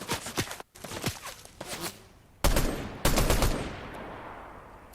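Gunfire from the Fortnite video game played on an Apple device: sharp, close shots and short bursts, with a pause before two louder blasts that ring out and trail off.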